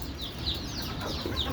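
Native chicks in a brooding house, faint repeated high peeping chirps over a low background hum, no talking.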